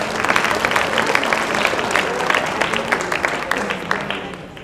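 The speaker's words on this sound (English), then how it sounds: "Let's give them all a round of applause." YMCA staff at an all-staff gathering give a round of applause, a dense crowd of clapping hands that stays loud and even, then begins to thin and fade at the very end.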